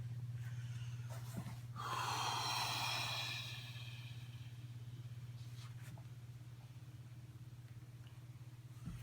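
A patient breathes out fully during a truncal lymphatic drainage massage, one long, soft exhale over a low steady hum in a quiet room.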